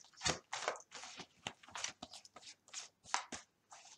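Oracle cards from the Lucia deck being shuffled by hand, a quick run of crisp papery riffles and slaps in irregular bursts, close and quiet, with no talking.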